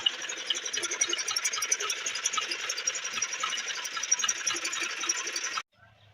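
A tractor engine pulling a trolley out in a village gives a steady, loud mechanical clatter and drone that runs for several seconds, then cuts off abruptly near the end.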